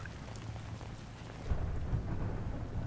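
Rain pours down in Battlefield 3 under a low thunder rumble that swells midway, a steady hiss of drops filling the background with no voices.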